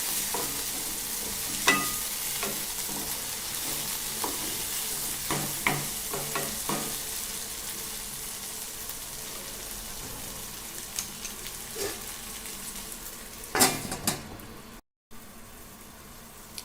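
Okra and tomato frying in a covered pan: a soft, continuous sizzle with scattered sharper crackles and pops, plus a brief clatter of stirring or lid handling near the end, with no voices.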